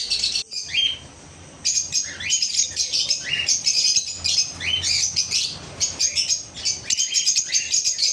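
Many small birds chirp and tweet continuously on a bird farm, a dense overlapping chorus of high calls close by, with occasional squawks.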